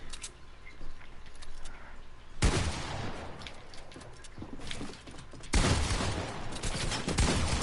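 Assault rifle fire sprays in an online shooter game, loud dense bursts of rapid shots starting abruptly twice with quieter scattered gunfire between, close and without talk.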